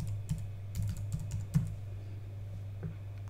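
Quiet, irregular clicks of typing on a computer keyboard, with scattered keystrokes over a low steady hum and no talking.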